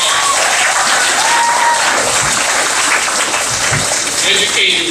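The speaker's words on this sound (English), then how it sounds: "please give your teachers, administrators, and staff a warm round of applause" Audience applause at a class of 2013 graduation ceremony, steady dense clapping filling the hall for the whole stretch, loud and close, with faint voices and a brief whistle-like tone mixed in.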